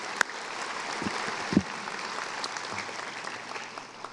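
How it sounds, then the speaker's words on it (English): Sustained applause from a graduation audience at a high school ceremony, honoring the Select Choir; a steady dense wash of clapping with a few louder claps standing out, no talk. "Let's give them another round of applause, please."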